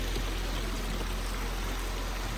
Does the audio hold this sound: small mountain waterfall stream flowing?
yes